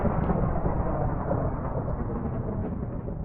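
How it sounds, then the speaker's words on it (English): Thunderous rumble of a lightning strike called down by a channeling trident in Minecraft, a dense, sustained low roar that stays loud and steady throughout with no voices. "I'm throwing the trident and channeling summons lightning when you hit."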